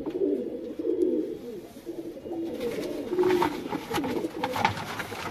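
Pet pigeons kept under a mosquito net after a bout of pox coo steadily and close by, with soft overlapping throaty calls and some rustling later on.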